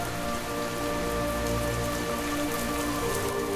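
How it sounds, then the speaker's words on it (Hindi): Heavy rain pours down steadily, a dense, loud hiss of drops drumming on surfaces with no pauses. "देखते देखते बारिश की धारें बरसने लगी।"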